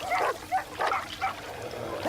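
Dogs bark at a venomous snake, several sharp, close barks and yips in quick irregular succession, loud and excited, with no talking.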